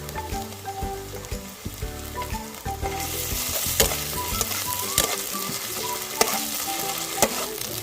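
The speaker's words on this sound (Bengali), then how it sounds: "এবার আমি দিয়ে দেবো বেটে রাখা মশলাটা, আদা, রসুন ও কাঁচা লঙ্কা" Ginger, garlic and green chili paste frying in a pan over lightly browned onions for a rohu yogurt curry: a steady close sizzle with repeated spatula scrapes and clinks, growing brighter and louder partway through.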